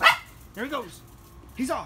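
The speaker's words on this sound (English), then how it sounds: "All right, that's the dog. That's the dog." A dog barks in a few short, sharp yips close by, one at the start, a pair mid-clip and another near the end, while someone talks over them.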